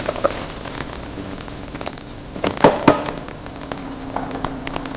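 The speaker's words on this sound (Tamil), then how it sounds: "ஸோ இஞ்சி போடுறோம். லைட்டாக சாட்டே பண்ணிவிட்டு" Chopped ginger is lightly sautéed in hot oil while a South Indian green gram sundal is being tempered, giving a steady close crackling sizzle with a few sharper pops, and no one speaks.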